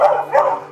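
A Laika dog gives two quick, close barks or yips in succession, brief and fairly loud.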